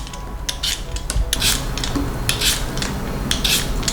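Two potatoes being peeled by hand for a vegan dish, a dry repeated scraping in short bursts, close and fairly loud, with no talking.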